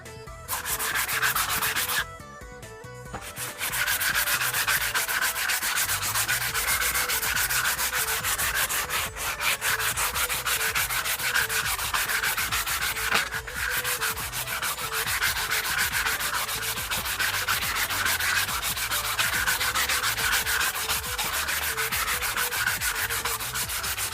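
Wooden bachi drumstick being sanded by hand with 120 grit sandpaper, a steady close rasping rub that continues almost without pause, alone with no voices.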